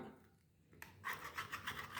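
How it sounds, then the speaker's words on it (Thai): Paint is scraped off a hacksaw blade meant for cutting steel, giving quiet, close rasping strokes that begin after a short silence and repeat in a brisk back-and-forth rhythm, with no voices. "ขูดออกไปนะครับ เพื่ออป้องกันนะครับ ไม่ให้สีนะครับ หลุดไป ลงร่องนะครับที่เราเลื่อยนะครับ"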